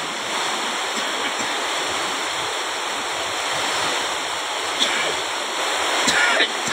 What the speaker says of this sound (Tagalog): Pero ito, kung makikita yung dagat agad, pakalakas na naman ito. Palaki na naman, palaki ang alon.